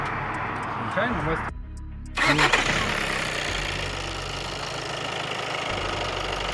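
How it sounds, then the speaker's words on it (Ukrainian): A car engine cranks and catches, then settles into a steady, fairly loud idle that fills the rest of the moment. A voice speaks briefly near the start. "Може, завести її?"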